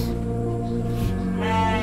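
Sheep bleating inside a livestock pen built of galvalume and wood, with sustained harmonic calls overlapping at close range and a fresh, brighter bleat rising near the end over steady barn ambience.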